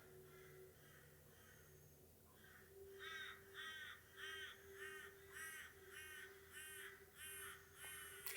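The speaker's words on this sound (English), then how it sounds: "You can hear all my birdies in the morning." Repeated crow caws ring out in a steady rhythm from about three seconds on, fairly close and growing louder, over a faint background with quieter bird calls early on.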